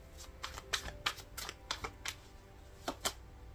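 Cards riffled repeatedly in quick bursts, a crisp rapid flutter recurring about seven times at close range, with no talking.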